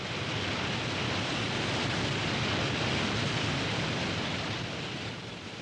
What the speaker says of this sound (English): trails lead into forests, punctuated with the sound of brooks, streams, cascades, and waterfalls